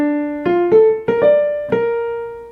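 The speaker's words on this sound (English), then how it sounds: "And then we hear all of the woodwinds playing the main theme, but it's minor now." Woodwinds play a Western-style main theme in a minor key, a short melodic line of clear separate notes rising and falling, bright and close, with nothing else playing.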